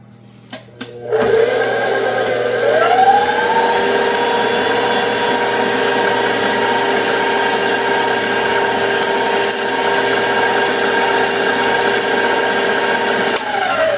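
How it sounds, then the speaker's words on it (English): An electric mixer whirs steadily at close range, mixing pumpkin bar batter in a home kitchen, starting with a few knocks, then spinning up to a continuous even hum that holds throughout without talk. "we'll stir those up. This mixer's sitting in a position that's different from what I'm used to."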